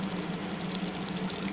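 Water pours steadily into a cooking pan of pepper chicken with masala and salt, a continuous soft hiss at low level with no talk.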